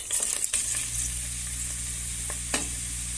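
Onions sizzle steadily in a hot pan while being sautéed for homemade hawawshi, a continuous close frying hiss with a few stirring knocks near the start and one later.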